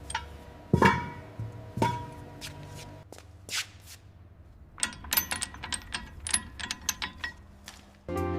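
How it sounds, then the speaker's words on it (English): A torque wrench ratchets and clicks while a line is tightened on a 2005 Tata Safari during a restoration, with close metallic clicks in quick irregular runs. "Go ahead and hit it with the torque wrench. Okay, it's clicked."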